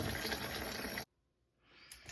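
Tap water runs steadily into a sink while black-eyed peas are rinsed, then shuts off abruptly about halfway through, leaving near silence before faint rustling and water sounds creep back in.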